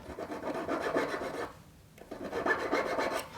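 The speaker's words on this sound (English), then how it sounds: "you can always file a nice little chamfer on that and on this side" Needle file rasping a chamfer on a small metal jewelry bail, close and moderately loud, with quick repeated strokes across the first second and a half, a brief pause, then another run of filing strokes, no voices.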